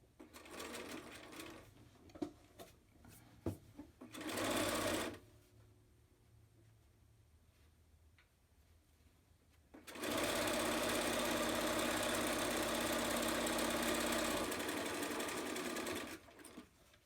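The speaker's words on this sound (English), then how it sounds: "Without cutting them, you're going to sew your next piece." A sewing machine chain-stitches fabric pieces for cloth face masks in rapid whirring bursts, first a short run, then a pause, then a long steady run of several seconds, all close and unaccompanied by talk.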